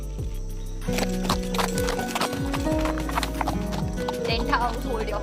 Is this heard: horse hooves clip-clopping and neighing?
yes